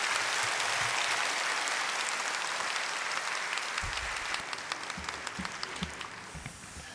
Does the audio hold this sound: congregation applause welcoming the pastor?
yes